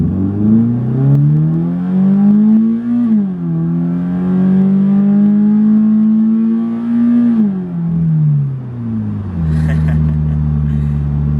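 A Scion FR-S or EcoBoost Mustang revs up hard through the gears in a fast straight-line pull, its engine note climbing steadily, dropping briefly at each shift and climbing again. The engine is loud and close, inside the cabin.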